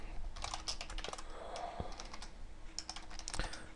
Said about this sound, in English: Now, I'm just going to start typing a C++ program.